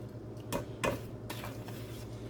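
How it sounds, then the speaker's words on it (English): Homemade fish batter seasoned with Old Bay is mixed by hand in a bowl, giving a few quiet scrapes and clinks of a utensil against the dish over a soft, steady background. "I'm just going to mix that all together."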